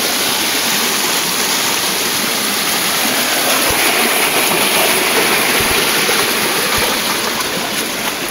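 A heavy, steady rush of stream water fills the whole stretch loudly during heavy village rain, broadband and unbroken like a waterfall, with no voices.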